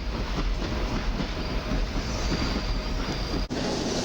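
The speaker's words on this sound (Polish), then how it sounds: "Na peronie szóstym zamelduje się osobówka" A passenger train at Warszawa Wschodnia station in winter, a steady broadband rumble of rolling stock with a faint high wheel squeal, continuous and fairly close, with no talk.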